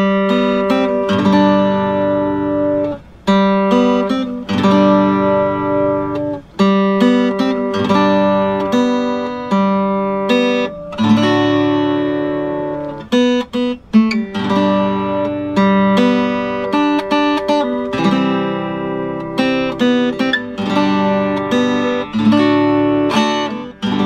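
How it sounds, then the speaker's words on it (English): Acoustic guitar playing When the Saints Go Marching In as a chord melody, strummed chords and plucked melody notes in a steady, upbeat rhythm, close and clear for about twenty-four seconds with no talking. "my easy way of playing When the Saints Go Marching In on acoustic guitar, Chord Melody"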